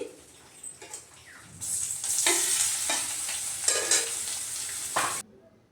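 Marinated soybean chunks hit hot oil and burst into a bright, loud sizzle after a quieter start, with stirring scrapes running through it, before the sound stops abruptly.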